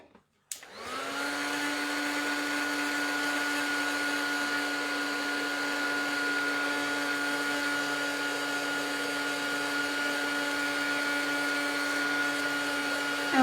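A drying tool blows hot air steadily onto a freshly stenciled art journal page, switching on abruptly and then holding a loud, even whir with a constant tonal hum for the rest of the clip.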